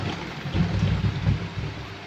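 Heavy rain from Typhoon Bebinca pours down in a steady wash of noise, with a low rumble swelling and fading underneath.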